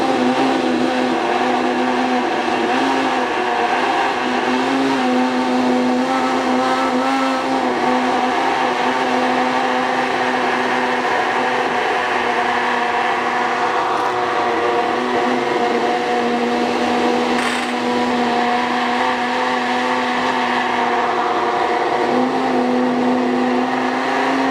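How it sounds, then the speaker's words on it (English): Stick blender whirring steadily through tomato soup in a pan, a loud, continuous motor drone with slight shifts in pitch as it churns, no talking. "that's where I put the blitzer"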